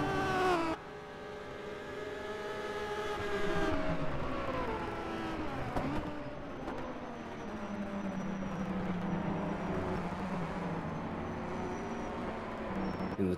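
Maserati race cars battling on the Longford circuit in a historic race, several engines sweeping up and down in pitch with rising and falling whines, loud and close, with no speech.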